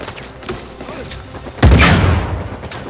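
A sudden heavy gunshot blast from the video game Uncharted cuts through quieter game sounds, booming loudly at first and then fading out over a second or so.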